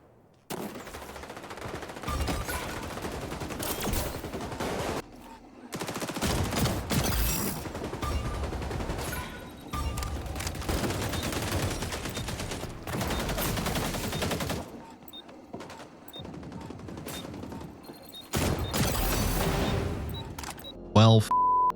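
Rapid automatic turret gunfire in the shooter XDefiant on the Daytona map, firing from behind tall cover in loud repeated bursts separated by short pauses, with game effects mixed in.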